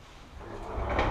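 A sliding shower door in a modern two-bedroom apartment rolls open with a short rumbling slide that grows louder toward the end, close by and without speech.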